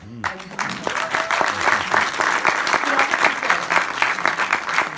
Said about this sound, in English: When I say that, you guys clap.